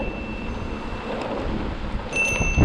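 Gusty wind buffets the microphone on a hike through Pole and Rock Canyons. A steady, broad roar runs throughout and swells louder near the end, with no talking.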